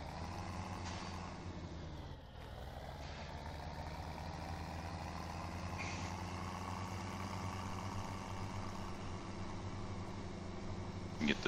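Steady low tractor engine idle in Farming Simulator 17, a continuous rumble with layered hum held for the whole stretch, close and fairly loud, with a brief dip near the start.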